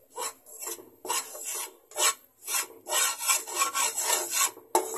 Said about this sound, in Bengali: এখন আমি একটা প্যানের মধ্যে 1 কাপ পরিমাণে ময়দা ভেজে নিচ্ছি।